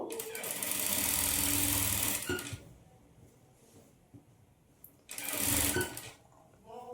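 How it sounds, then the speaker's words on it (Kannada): Sewing machine stitching Punjabi dress pants, with two loud bursts of close motor whirring separated by a quieter pause with faint handling noise. "ಗುಂಪಿನ ಹಾಕ್ಕೊಂಡು ಸ್ಟಿಚ್ ಮಾಡ್ಕೊಳ್ತಾ ಬರಬೇಕು"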